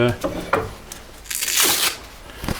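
A hook-and-loop sanding disc is pressed onto a wood lathe faceplate, making a short rasping rip amid shuffling handling noise, with someone talking quietly.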